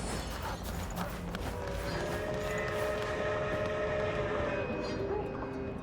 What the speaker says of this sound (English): I hear the train, but I don't see a train.